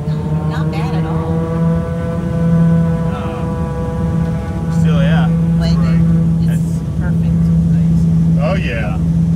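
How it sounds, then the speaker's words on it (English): A King Air B200 turboprop with MT five-blade composite propellers heard from inside the cabin during takeoff, a loud steady drone with a strong low tone and engine harmonics, while people talk over it. "you're fixing to get the takeoff noise"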